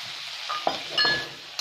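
Chopped onions fry with moong sprouts and chickpeas in a pan, a close sizzling hiss broken by a few metallic clinks of the stirring spoon against the pan. No voices.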